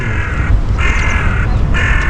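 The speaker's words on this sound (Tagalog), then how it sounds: "Dito lagi, mandaming ganyan o ibon." Black birds give harsh, repeated caws in Rome, three distinct calls standing out over a low outdoor background rumble, with no speech.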